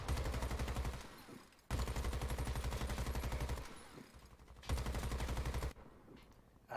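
A heavy machine gun in Warface fires three long, loud, rapid bursts, each a steady drumming stream of shots. Short pauses separate the bursts, and a final burst begins at the very end. No voices are heard.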